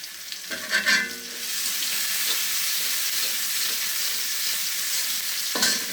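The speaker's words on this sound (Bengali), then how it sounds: "এই যে পেঁয়াজ ভেজে নিচ্ছি আগে" Onions frying in a pan for a dried-shrimp curry: a few quick stirring scrapes at the start, then a loud, steady, close sizzle that runs on to a final clatter.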